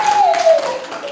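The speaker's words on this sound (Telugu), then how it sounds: "Very good, claps for him." Children and their teacher clap for a student in a primary school classroom, a short burst of brisk, fairly loud applause lasting about a second.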